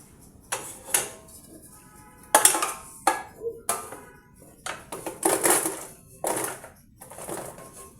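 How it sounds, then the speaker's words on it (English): Food goes into an air fryer amid a series of sharp clattering knocks and clinks of pans and baskets, irregular bursts spaced a second or so apart at close range, with no talking. "Let me put this in the air fryer."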